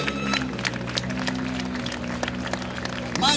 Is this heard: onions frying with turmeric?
no